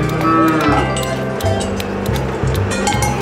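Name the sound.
cows mooing in a barn in Vorarlberg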